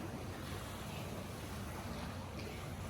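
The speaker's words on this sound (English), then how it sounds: "The boats cause some waves. It's nice to hear," Steady broadband wash of lapping water from small waves made by passing boats on Lake Guntersville, Alabama, heard from a campground, with a light wind rumble throughout and no talking.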